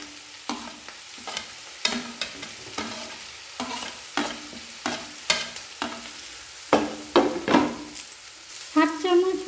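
Grated beetroot and carrot, added after chopped tomato, are stirred through hot oil in a pan for a spicy vegetable chop filling, giving close, rhythmic scraping strokes over a steady sizzle.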